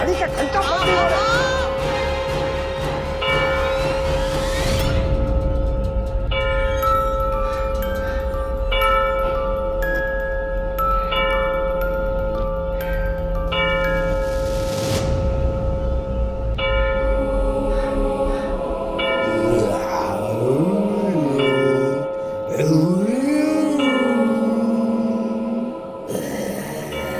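Clock chime bell ringing nonstop, loud repeated metallic tones sustained throughout with a bright ringing hum, later joined by warbling shifting tones.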